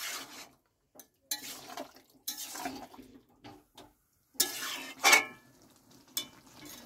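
Lid lifted off a pot of simmering jackfruit and potato curry with shrimp, followed by bursts of stirring, scraping and bubbling sizzle, several short clattering clusters separated by quiet gaps, close and fairly soft.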